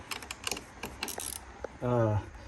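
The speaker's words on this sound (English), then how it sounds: "you use the same 10 millimeters socket. You just have to remove it like that" A 10 mm socket wrench ratchets on the battery bolt of a Jaguar XK8, giving a close series of quick metallic clicks followed by a brief buzzing whir.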